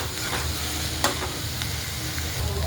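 Chopped onion frying in hot oil with cumin and mustard seeds, a steady close sizzle with a few scraping stirs of the spoon across the pan.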